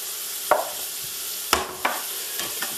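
Scrambled eggs with lobster sizzle steadily in a pan, broken by a few sharp scrapes and taps of stirring spread across the moment, close and fairly loud with no talking.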